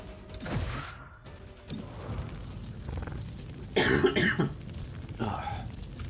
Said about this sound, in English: just coughing a little bit